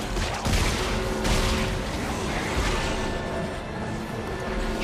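Gunfire from the sci-fi survival horror game Dead Space 3, a loud burst of shots and heavy impacts up front, followed by a dense, sustained roar of game noise.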